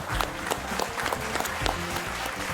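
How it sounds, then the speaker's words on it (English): Audience applause at an awards show, a dense, steady burst of clapping from a large crowd filling the whole moment, close and loud with no talk over it. "a huge round of applause for Aryan Khan"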